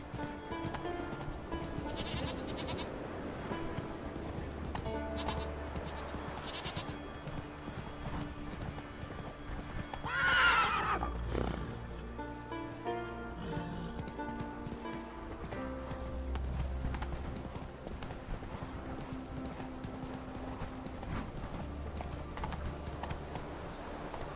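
A horse in The Witcher 3 clip-clops along at a steady rhythm, with a loud whinny rising midway before the hoofbeats carry on.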